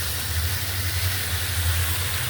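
Fried tilapia pieces go into a pan of curry with a steady, loud sizzling hiss over a low rumbling hum, unbroken and close.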